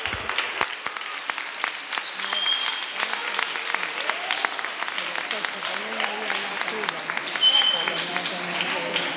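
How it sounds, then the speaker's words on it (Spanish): Applause fills a council plenary session after a unanimous vote on equality motions, steady clapping from a room of people lasting throughout, with some voices murmuring underneath and a brief swell near the end. "vamos a votar a favor por unanimidad, con un fuerte aplauso"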